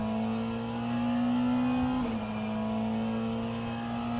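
Steady droning hypercar engine in a racing video game endurance race, holding a sustained pitch with a brief dip as the car shifts or lifts, loud and continuous without speech.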